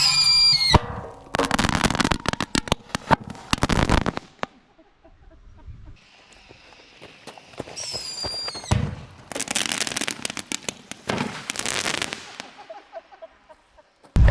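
Under an excavator bucket, dynamite goes off as a weak fizzling crackle instead of a big boom, with bursts of sharp popping and rattling separated by quieter gaps and brief snatches of voices.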